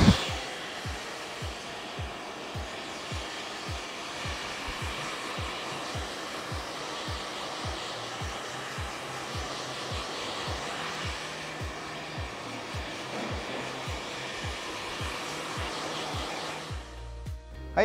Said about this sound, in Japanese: ここからドライヤーの弱風で根元を少し乾かしてあげてそこからスタイリング剤をつけていく形でやっていきます